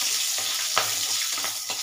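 Black cumin seeds, whole dried red chillies and green chillies sizzle in hot oil as a spice and onion mix goes in, a steady close crackle with brief louder bursts of frying and stirring, no voices.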